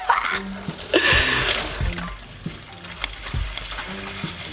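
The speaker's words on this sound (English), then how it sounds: "the coolant has been drained from the radiator" Coolant drains out of the radiator of a 2008 Nissan 350Z NISMO with a VQ35HR engine, a steady splashing pour of liquid that runs throughout with a few clunks and thumps underneath.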